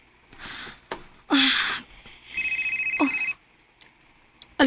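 An incoming call sets a telephone ringing with a bright, pulsing electronic trill in one clear burst, surrounded by short breaths, shuffling and other brief noises in a quiet room.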